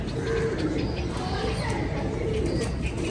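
A pigeon of a black-barred breeding line coos low and steadily against a dense, continuous background of other birds, the calls rising and falling over about three seconds without a clear break.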